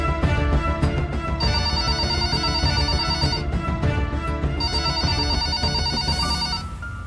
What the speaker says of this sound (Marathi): फोन का नाही घेतेस?